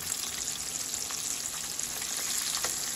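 Homemade chicken nuggets fry in an open frying pan over medium-high heat, giving a steady, dense sizzle that stays even throughout, with no talking.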